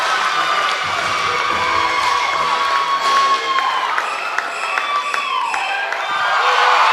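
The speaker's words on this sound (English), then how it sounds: "Well-deserved loud ovation for Kaya Forbes" An arena crowd at a college gymnastics meet between Clemson and North Carolina bursts into loud, sustained cheering, whooping and applause after a floor routine, with high shouts rising above the roar throughout.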